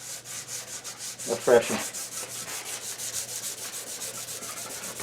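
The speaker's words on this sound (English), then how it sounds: "All right, fresh piece of 220 sandpaper." Fresh 220-grit sandpaper rubbing over wood on a monitor stand, a steady rhythmic back-and-forth scratching close by, with a brief spoken phrase partway through.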